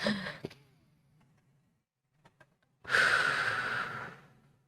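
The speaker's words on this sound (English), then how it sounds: "So let's take a deep breath." A long, deep breath drawn in and let out during a calm, guided affirmation moment, first a short inhale, then a pause and a loud, broad exhale lasting over a second, close and alone.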